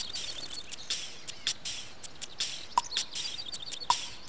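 Cartoon birds chirp and tweet in short, bright bursts while pecking at plums in an orchard, a quick scattered run of calls over quiet ambience with no talk.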